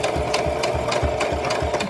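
A sewing machine stitches a doll, running steadily and close with a rapid, even needle beat that continues throughout, with no voices.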